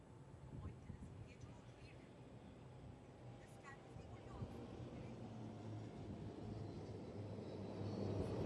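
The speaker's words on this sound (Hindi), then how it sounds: "आकाश को अपनी गूंज से अलंकृत कर रहे अब आ रहे हैं हिंदुस्तान एरोनॉटिक्स लिमिटेड द्वारा निर्मित डॉर्नियर विमान" A Dornier aircraft built by Hindustan Aeronautics Limited flies over a naval commissioning ceremony, its steady low engine drone building slightly louder over several seconds beneath crowd noise and a commentator's voice.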